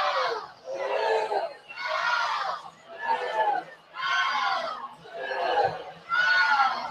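Fans at a Michigan versus Indiana college softball game give six rhythmic chanting cheers, led by players on the bench. The crowd is loud and close, with brief pauses between bursts.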